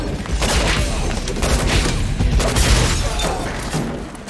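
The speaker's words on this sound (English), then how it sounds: "We heard gunshots." Gunfire in the video game XCOM Long War, a dense, loud rumble of overlapping shots and booms that holds steadily through the moment.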